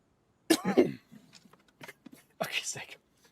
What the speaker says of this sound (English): I unmute the mic, and as I do it, I cough